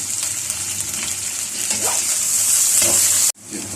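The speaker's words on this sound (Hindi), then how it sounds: "अब मैंने इसको 4 से 5 मिनट तक फ्राई किया गोश्त को" Mutton sizzles and fries in a karahi, a continuous loud crackling hiss with some stirring, cut off briefly near the end before resuming.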